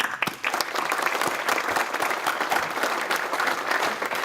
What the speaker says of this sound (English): let's give Snyder a big clap.